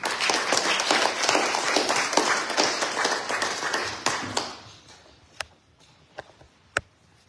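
An audience applauds to welcome a speaker at a church message, dense steady clapping for about four seconds, then it fades out to a few isolated claps.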